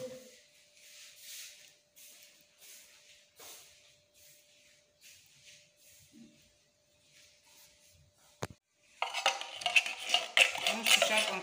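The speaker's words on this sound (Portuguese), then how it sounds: "Vamos puxar com a colher para podermos acabar todo o leite." A spoon scrapes and taps against a metal can of condensed milk in scattered strokes, followed by a louder burst of mixing or pouring.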